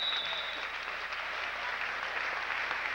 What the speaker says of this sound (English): Crowd's giving applause here to both teams.